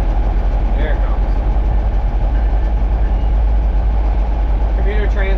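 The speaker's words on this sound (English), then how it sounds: "Commuter train that goes into Boston." A commuter train running into Boston rumbles steadily near a rural crossing, a deep continuous low drone and engine hum with faint brief tonal squeals, while people talk nearby.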